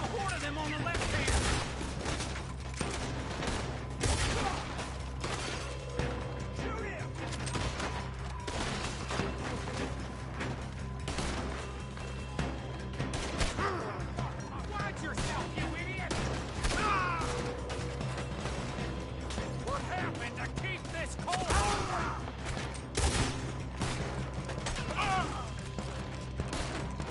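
Gunfire in the game Red Dead Redemption crackles in dense, irregular bursts of rapid shots, mixed with mechanical clatter and a faint voice, continuing throughout at moderate distance.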